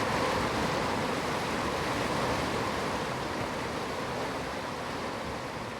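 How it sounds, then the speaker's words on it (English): Steady rushing water from a waterfall in the space exploration game Outer Wilds, a loud, continuous broadband roar that fills the whole stretch without pauses or voices. "all I could hear was waterfall"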